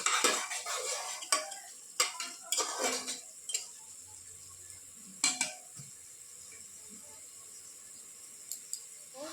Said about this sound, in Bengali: মশলাটা কিন্তু আমি ভালোভাবেই কষিয়ে নিচ্ছি।